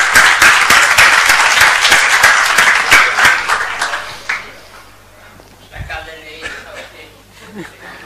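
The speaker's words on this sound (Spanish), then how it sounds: "Un aplauso para vuestro compañero." Audience applause during a talk on homeopathy, a loud burst of clapping that lasts about four seconds and then fades into scattered chuckles and a few voices.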